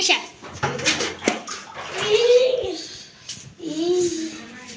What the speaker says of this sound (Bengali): এই চলো এখন আমি এটা ধুয়ে ফেলবো।